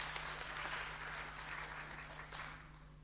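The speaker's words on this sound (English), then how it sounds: "Ladies and gentlemen, another round of applause for our..." Festival audience at an intellectual gathering claps together in a soft, distant wash of applause that swells briefly and then gradually tapers off, with a low steady hum from the hall's sound system underneath.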